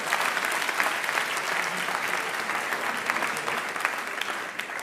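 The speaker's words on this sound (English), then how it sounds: "Give them a round of applause." An audience in a lecture hall gives a round of applause, with dense, even clapping that holds steady for several seconds and tapers slightly near the end.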